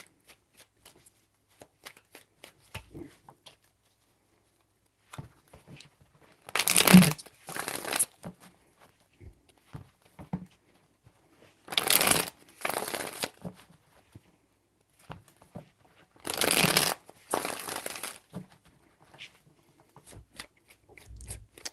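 Tarot cards being shuffled in three distinct bursts of crisp riffling, several seconds apart, with quiet handling rustles between them, close and fairly soft.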